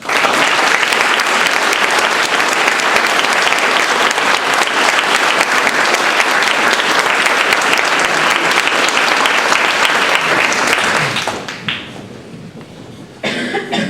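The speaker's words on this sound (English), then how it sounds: "Please join me in thanking the faculty with a round of applause" Sustained, loud applause from a large audience thanking faculty at a graduation ceremony, rolling evenly for about eleven seconds before tapering off, with a few coughs mixed in.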